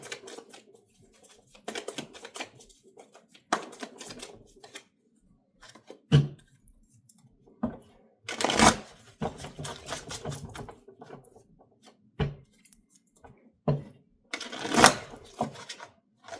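Tarot cards are shuffled in quick bursts of crisp, papery riffling clicks, separated by short pauses, close by with no voices.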